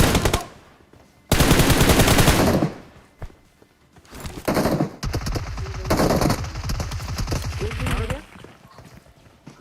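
Automatic weapon fire in a mobile battle royale video game, with loud rapid bursts separated by brief pauses, close and sharp, while someone talks over parts of it.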